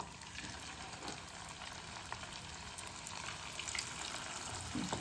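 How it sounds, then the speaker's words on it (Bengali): Chicken pakora pieces frying one by one in hot oil over a medium flame, a steady close sizzle and bubbling that swells slightly as more pieces go in. "আমি এবার একে একে এইগুলো ভেজে নেব।"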